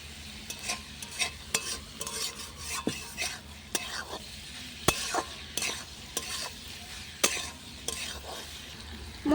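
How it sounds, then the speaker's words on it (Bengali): Pointed gourd stir-fried with spices in a pan over a clay stove, with rhythmic scraping and clanking of a spoon against the pan over a soft sizzle, close by and without talk. "ভালো করে সমস্ত মশলার সাথে পটলটা কষিয়ে নিতে হবে"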